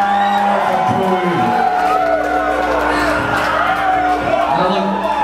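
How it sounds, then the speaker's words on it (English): A live crowd at a Soilent Green metal show at The Raven in Denver cheers and whoops through a loud, steady wall of noise, with a sustained amplified drone running underneath and voices shouting throughout. "give a big round of applause for yourselves"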